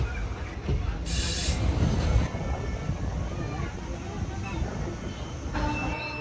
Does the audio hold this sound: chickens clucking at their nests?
no